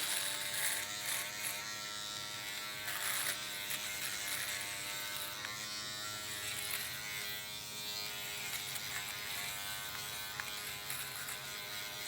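A Stylecraft Ace 2.0 hair clipper cuts hair with a constant close electric buzz. The steady drone has a rich harmonic whine and small shifts in tone as the blades move through the hair, with no talking.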